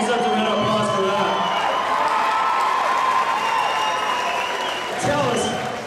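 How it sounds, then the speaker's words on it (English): Crowd at an MMA event applauding and cheering a fighter, loud sustained clapping mixed with whoops and shouts, with an announcer's voice speaking over it. "I think he deserves a round of applause for that"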